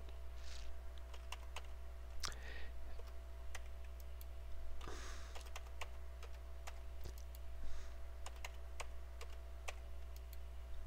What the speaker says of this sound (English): So I'm going to type ERY 20, left click